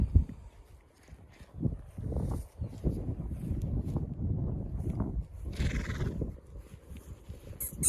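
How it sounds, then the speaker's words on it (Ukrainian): Horses snorting and moving about outdoors, with irregular low rustles and thumps, a few louder bursts and a brief higher whinny-like sound near the end. "Буду показувати вам свої коні, які є, які приїхали до мене"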